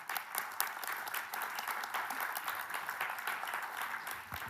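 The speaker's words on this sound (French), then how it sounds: "Je pense qu'on peut les applaudir." A conference audience applauds its sponsors with dense, fairly soft clapping from many hands. The claps are crisp and evenly spread, continuing for several seconds without talk.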